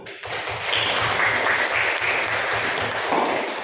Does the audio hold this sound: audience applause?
yes